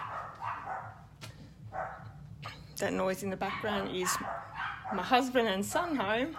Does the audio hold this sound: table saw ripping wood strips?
no